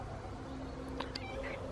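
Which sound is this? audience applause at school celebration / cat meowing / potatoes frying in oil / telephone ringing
cat meowing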